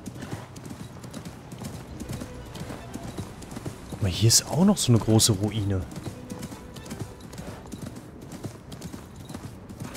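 Horse hooves clip-clopping in a rapid, steady rhythm in the game Assassin's Creed Mirage, with a loud whinny partway through and someone talking over the galloping.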